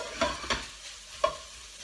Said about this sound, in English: Stir it all through.